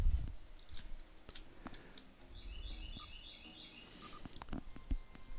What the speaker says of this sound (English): The birds are very noisy here, but kind of cool